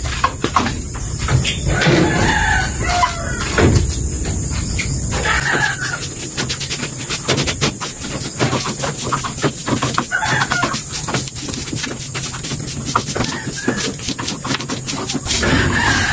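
Chickens in a backyard yard, some of them molting, cluck and crow over steady outdoor noise, with repeated loud calls and scattered rustling close by.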